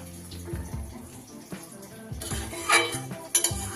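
Fried lentil dhoka pieces dropped into simmering gravy in a pan, with close metallic clinks of utensils against cookware and a soft wet splash, the clatter coming in a few uneven bursts.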